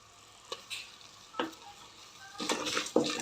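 Turmeric is stirred into lentils frying in oil in a pan, giving a soft sizzle with a few scraping strokes of a spoon, quiet and close, busier near the end.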